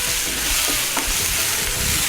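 Onion frying to golden brown in a pan, a steady loud sizzle with soft scraping as it is stirred, no talking.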